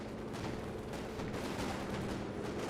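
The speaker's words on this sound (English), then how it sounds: "Oh, it's an airstrike." Rapid, continuous gunfire from an airstrike strafing run in the strategy game Company of Heroes 2, a dense loud barrage of shots and explosions that fills the short moment without any talk.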